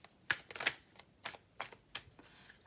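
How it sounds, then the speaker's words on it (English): Shadows and Light Oracle cards being shuffled by hand, a quiet run of short papery riffles and flicks in uneven bursts, close and soft with no voices. "just going to have a little shuffle"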